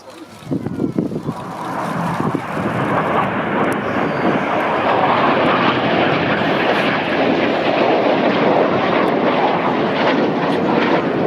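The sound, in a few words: Red Arrows display jets flying at RIAT airshow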